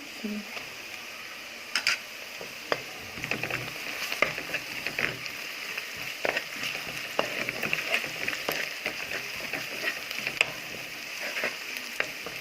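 Garlic sizzling in a hot pan for a small rice-and-okra tagine, a steady crackling fry broken by sharp clicks and scrapes of stirring, fairly close and moderately loud, with no talk over it.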